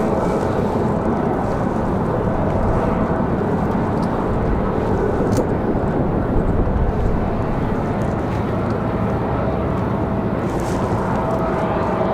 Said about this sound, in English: Beautiful golden hour shot of Southwest's arrival. Smooth landing for them,